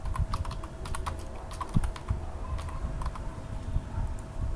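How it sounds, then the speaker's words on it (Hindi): Rapid typing on a computer keyboard while entering a message into an Excel spreadsheet, a close, continuous patter of key clicks with occasional heavier strokes. "यहाँ पे मैसेज टाइप करेंगे"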